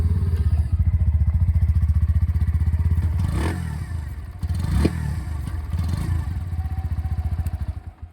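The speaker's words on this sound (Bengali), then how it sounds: "আমাদের ইঞ্জিন সাউন্ডটাও শোনাবো" A 2025 Bajaj Pulser NS 125 motorcycle engine idles close by with a rapid even thumping beat, briefly blipped twice before settling and fading toward the end.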